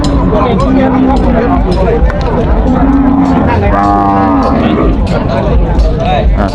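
A heifer about 140 cm tall moos at a cattle and buffalo market in Thailand, a couple of long low calls over busy crowd murmur, with someone talking loudly close by throughout.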